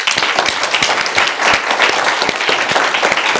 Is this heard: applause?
yes